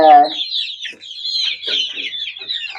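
Hens clucking up close in a backyard flock, a loud squawk at the start followed by a run of quick, chattering clucks and calls.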